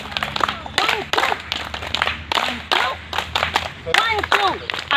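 A running club's group doing a stretching routine claps in a rhythmic pattern, sharp sets of hand claps repeating in a steady beat, close and loud, with a voice counting along between them.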